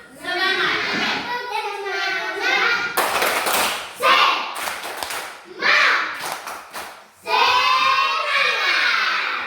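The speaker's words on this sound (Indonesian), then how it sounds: "Oke, jadi kita tepuk semangat" A class of children does a rhythmic spirit clap, tepuk semangat, in an Indonesian classroom lesson: bursts of group clapping in a set rhythm alternate with children chanting loudly together between the claps.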